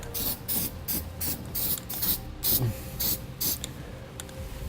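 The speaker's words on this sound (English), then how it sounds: "take some spray paint and we'll spray so we don't have to worry about any rust" Repeated bursts of aerosol spray paint hissing in short pulses over drilled holes during a gooseneck trailer hitch installation on a 2015 GMC Sierra 3500, several quick sprays with brief pauses between, fairly close and loud.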